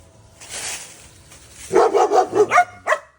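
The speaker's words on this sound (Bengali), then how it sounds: "এখানে একটা জাত মারা কুকুর আছে, জাত মারা।" A dog barks in a quick series of five or six sharp barks, close and loud, followed by one more bark after a short pause, in a garden in the Cameron Highlands, Malaysia.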